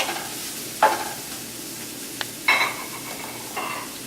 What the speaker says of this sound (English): Add your garlic. A little stir.